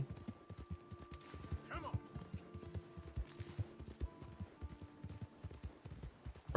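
A horse's hooves clip-clop steadily on the ground in the Red Dead Redemption 2 video game, fairly quiet and even, with faint game sounds behind them.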